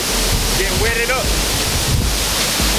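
A big waterfall roars as a steady broadband rush close by, with wind buffeting the microphone and a brief voice or whoop partway through.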